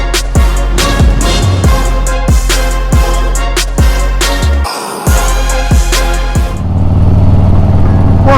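Motorcycle engine running steadily while being ridden, with a strong low rumble and repeated rhythmic surges from gear changes or throttle blips, a short dip near the middle, then a steadier drone; no talking.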